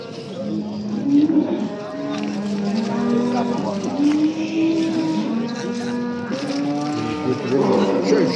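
Cows low repeatedly in long, overlapping moos at a cattle market, over a constant background rumble, fairly close and loud.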